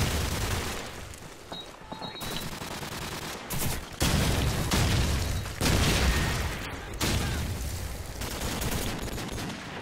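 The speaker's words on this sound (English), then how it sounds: "Oh, they've got their airstrike out." Airstrike explosions in Call of Duty 4 gameplay arrive as a rapid volley of heavy booms and cracks, loud and close, rolling in several dense bursts over about ten seconds with short gaps between.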